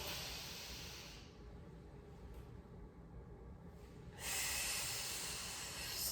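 A deep breath drawn in before a barbell back squat, a close, airy inhale through the nose over a hissy background, followed by a louder rush of air.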